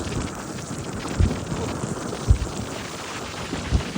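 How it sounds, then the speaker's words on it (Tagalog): Strong wind rushes steadily in a broad noisy roar, broken by a few low thumping gusts or buffets, with no voices. "pero napakalakas ng hangin"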